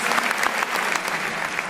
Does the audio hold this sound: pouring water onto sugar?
no